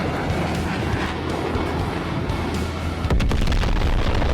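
Airstrike explosions from the Dreadzone video game trailer: a dense, loud, continuous roll of booming blasts and rumble, sharpening into heavier close impacts after about three seconds.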